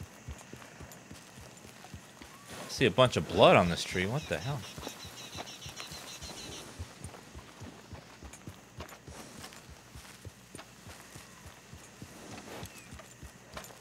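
Horse hooves clip-clop in Red Dead Redemption 2, a steady walking rhythm of soft thuds running throughout under outdoor ambience, while someone talks over the early part.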